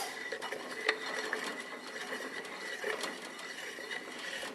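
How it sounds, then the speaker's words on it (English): Ratchet clicking while cutting extra threads into an engine oil pickup tube for a 440 MOPAR big block, clamped in a drill press; steady mechanical ticking and grinding at moderate level. "all I want to do is cut a few extra threads in here"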